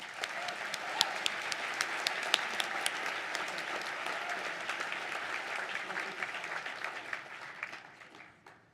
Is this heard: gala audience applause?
yes